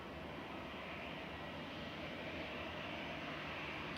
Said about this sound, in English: This is GEZ-GX, flight 2129, Airbus A320 Classic. It's turning.